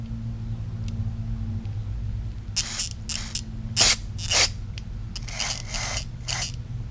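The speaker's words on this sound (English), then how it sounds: "Maybe I'll take some carb spray and blow through that." Several short bursts of aerosol carburetor cleaner hiss close by over a lawn mower's low idling rumble, the middle pair louder and sharper than the rest.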